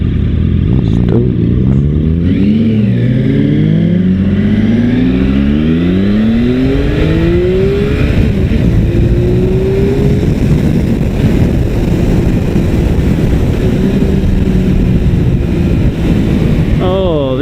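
Motorcycle engine on a summer road trip, revving hard and rising in pitch as the rider opens the throttle, loud and close with steady wind rush throughout and a brief bit of talk near the start.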